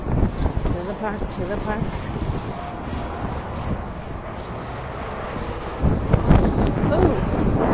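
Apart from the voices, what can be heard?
wind blowing into the microphone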